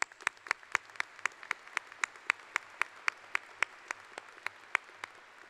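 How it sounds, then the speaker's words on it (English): Applause for the faculty at a university commencement ceremony, heard as a steady series of sharp, evenly spaced claps, rather sparse and moderately quiet, with no talking. "So I want to give a round of applause to our faculty."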